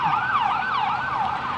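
Ambulance siren wailing loud and close, its rising and falling tone sweeping up and down in a steady repeating cycle over background traffic noise.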